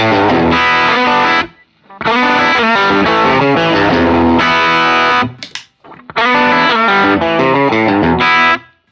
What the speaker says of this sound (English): So moving into the boost sounds something like this.